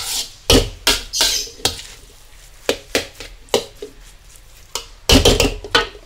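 Metal utensil scraping and clattering in a pan as spicy tuna fried rice is stir-fried, in irregular bursts of clanks and scrapes, close and fairly loud.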